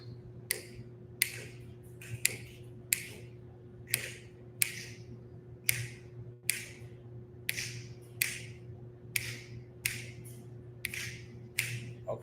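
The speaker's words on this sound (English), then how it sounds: "or actually snap your fingers" An audience at a jazz concert and masterclass snaps fingers together in a steady, even beat, crisp repeated clicks over a low constant hum with no talking.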